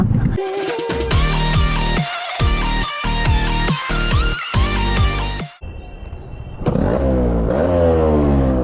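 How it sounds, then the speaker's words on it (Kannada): A restored Yamaha RX motorcycle engine is revved hard several times in quick succession, loud and close with short gaps between blips, then drops briefly before climbing again in rising revs. "ಗಾಡಿ ಒಂದೇ ಕಿಕ್ಕಲ್ಲಿ ಸ್ಟಾರ್ಟ್ ಆಗಿಬಿಡ್ತದೆ"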